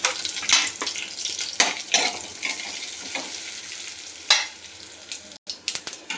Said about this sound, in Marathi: हे जे हे धणे जिरं वगैरे घेतलं ते ह्याच्यातच भाजून घेणार आहे मी